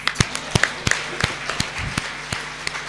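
Sparse, scattered hand claps from an audience at a Hindi poetry recital welcoming the poet Mahendra Ajnabi, a dozen or so separate claps spread unevenly over a few seconds rather than a full ovation.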